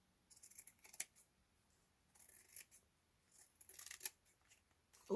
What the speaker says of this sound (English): I didn't really want to cut that with these scissors